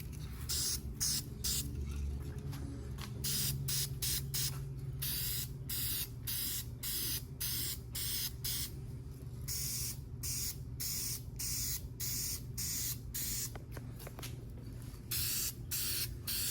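Aerosol spray paint hissing onto old-school valve covers for a Cummins-powered 1940 truck, in rapid repeated short bursts over a steady low hum.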